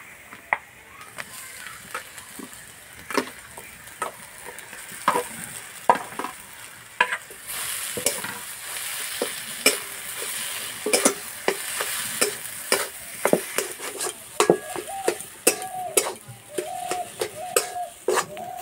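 Mashed potato mixture frying in a pan with turmeric and spices crackles in a low sizzle while a spoon scrapes and knocks against the pan in frequent sharp strokes, growing busier and louder partway through.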